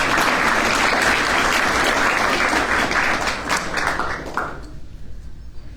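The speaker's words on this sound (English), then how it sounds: "It wasn't intended to be an applause line" Audience applause at a 2023 state of the city address, a loud sustained wash of clapping from a large crowd that thins and fades away over the final second or so.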